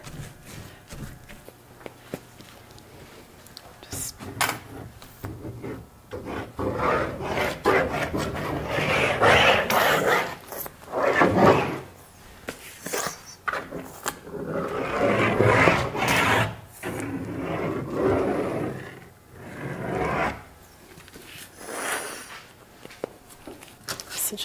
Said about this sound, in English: Gigantic paint scraper here.